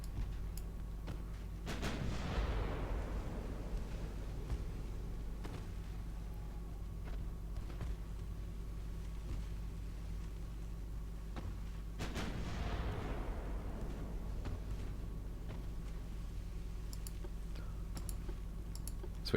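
Secondary guns of a ship firing in the naval game Ultimate Admiral Dreadnoughts, set in 1910 Germany: two booming salvos about ten seconds apart over a steady low engine rumble, with faint clicks in between.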